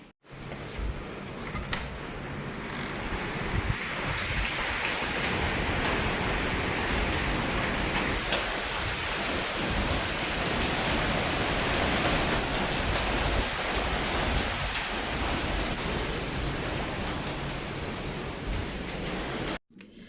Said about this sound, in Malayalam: രാവിലെ നല്ല മഴയായിരുന്നു കേട്ടോ